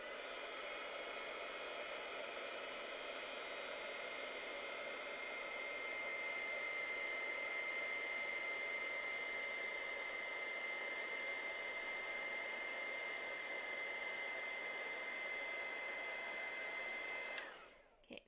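A heat tool blows a steady, loud, even whir for about seventeen seconds while melting embossing powder on a handmade card, then cuts off abruptly near the end.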